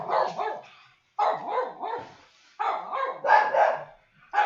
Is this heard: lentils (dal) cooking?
no